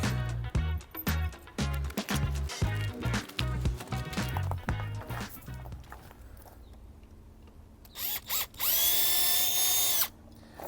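A power driver fitted with a Torx T25 security bit backs screws out to remove an e-bike battery, with a run of short stop-start whirring bursts, then a quiet pause and a final longer, steady high whine near the end.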